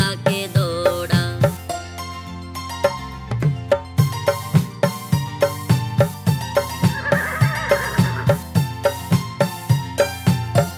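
A horse neighs within a Hindi children's rhyme about a wooden toy horse, set against bouncy, steadily pulsing music that runs throughout.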